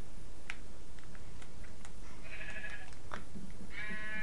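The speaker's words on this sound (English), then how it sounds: "Look, all the sheep running off." Sheep bleating in the video game Minecraft, a few short nasal bleats over steady background noise, fairly close, with no talking.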